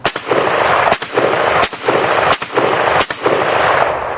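Loud, close gunfire from a military surplus rifle shooting 7.62x39 rounds, with a rapid string of sharp reports at roughly regular intervals and no voices.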